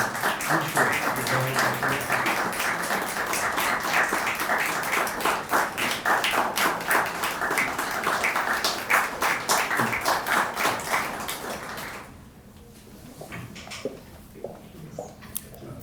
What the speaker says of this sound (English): we just give Officer Fuller a round of applause